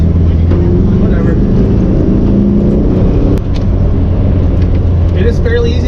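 A 1961 Volkswagen with manual transmission drives along, its engine and road noise forming a loud, steady interior drone with a constant low hum throughout.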